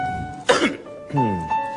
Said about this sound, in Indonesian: Enggak, saya lagi batuk.